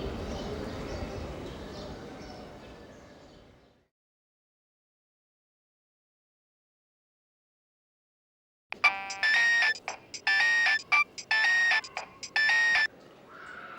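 A telephone rings during a call, a bright electronic ringtone in about four regular bursts after a stretch of silence. Earlier, a muffled stretch fades out.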